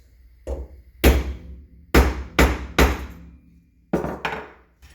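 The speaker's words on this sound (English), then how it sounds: "I'm using a ball peen hammer" A 16-ounce ball peen hammer strikes a rivet, sharp metallic blows ringing out close by, about six strikes at an uneven pace with short pauses between them.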